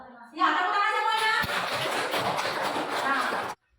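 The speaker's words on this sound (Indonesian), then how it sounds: "tepuk tangan semuanya" Children in an elementary classroom break into a burst of clapping that lasts about three seconds and then stops abruptly, with some voices mixed into the applause.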